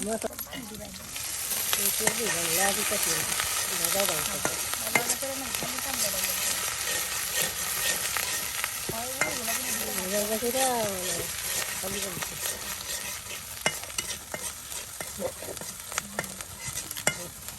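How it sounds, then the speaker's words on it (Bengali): Onions, mustard paste and garlic paste fry in oil with a steady, close sizzle and crackle, stirred throughout, while someone talks over the cooking for most of the stretch. "সুন্দর সবকিছু একদম বাজা বাজা করে নেওয়া হচ্ছে তেল দিয়া"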